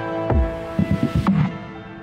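Drum samples from a video game soundtrack play in a finished FL Studio mix: a few punchy low hits and a quick rhythmic cluster over a sustained tonal bed, loud and close.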